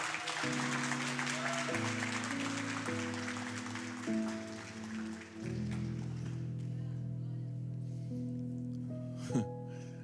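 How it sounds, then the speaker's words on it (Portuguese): A church congregation claps together during a Sunday worship service, a steady broadband wash of applause that holds for several seconds and thins toward the end, with sustained organ or keyboard chords playing underneath throughout. "Você pode aplaudir Jesus?"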